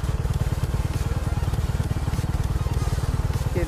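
Vikrant V15 motorcycle engine idling after an air filter change, a steady rapid low-pitched thump with a crackly edge, close and continuous throughout.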